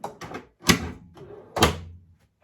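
A few sharp clunks and a scraping slide of a DeWalt Tough System DWST08320 two-drawer case drawer being pulled open, spaced out with brief pauses between them.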